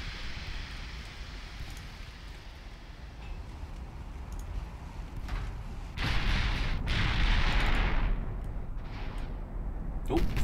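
Warship guns fire in the naval battle game Ultimate Admiral Dreadnoughts, heavy booming blasts over a constant rumbling sea-and-engine background, with a louder, longer eruption of gunfire midway.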